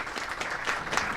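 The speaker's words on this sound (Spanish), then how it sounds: "Un fuerte aplauso para él, por favor." A brief, fairly quiet burst of audience applause at a public management talk about the Lima 2019 Pan American Games, heard as an even patter of many hands.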